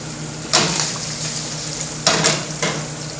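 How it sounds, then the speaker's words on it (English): Onions sizzling in a frying pan as they brown, a steady close hiss broken by three scraping stirs against the pan. "my onions are starting to brown"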